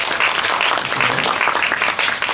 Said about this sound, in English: We give applause to the speakers first.